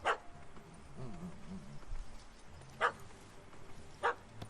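A dog in The Witcher 3: Hearts of Stone gives three sharp, short barks, spaced a second or more apart, fairly near and clear above a faint ambient game background.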